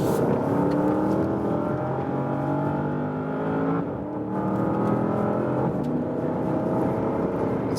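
Porsche Panamera Turbo S E-Hybrid sedan accelerating hard at full throttle in Sport Plus mode, its engine note loud and close, rising in pitch through repeated climbs with a brief dip at a gearshift before pulling again.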